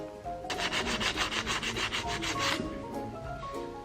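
Rapid, rhythmic sanding strokes rasp back and forth over a welded metal mould's excess weld for about two seconds, close and steady, then stop, leaving a faint background hum.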